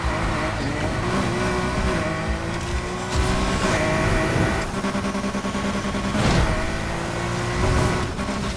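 A Nissan R34 GT-R V Spec races in Need for Speed Heat, its engine droning and revving loudly and steadily throughout, with surging acceleration swells and hints of tire squeal over game music and effects.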